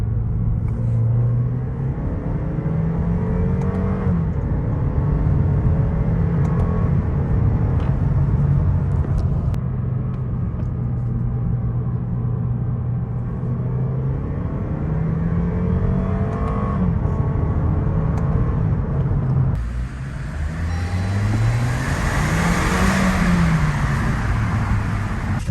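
A 2022 Lexus IS 300 driving on the road, its engine rumbling steadily and rising in pitch as it accelerates through gears, with a brief shift and surge of louder engine and road noise near the end.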